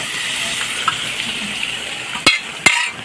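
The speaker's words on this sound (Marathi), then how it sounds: "मसाल्याला आपलं छान तेल सुटलं तर याच्यामध्ये ना आपण आपलं चिकन टाकूया" Chicken pieces dropped into hot masala oil crackle with a steady sizzle, then sharp bursts of spatter as the meat and its water hit the pan, close and fairly loud.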